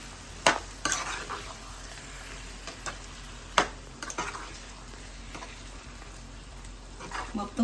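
Mushroom curry simmers in a pan while a spoon stirs it, giving soft scraping and several sharp clinks against the pan over a low, quiet background.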